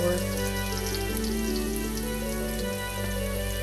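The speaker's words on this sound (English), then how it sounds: "After you saute your garlic, you're going to put in your" Garlic sautéing in a wok sends up a steady, close sizzle with fine crackle, layered over a constant low tonal hum that runs the whole time.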